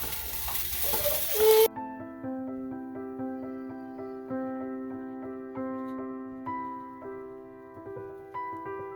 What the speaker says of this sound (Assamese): এতিয়া মই ইয়াতে মানে এইখিনি দিম ব্ৰকলিখিনি দিম আৰু মটৰ মাহখিনি দি দিম